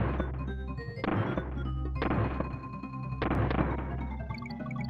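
Barrel cannons fire in the Donkey Kong Country video game, heavy thunks repeating about once a second over a steady, loud backdrop of game music.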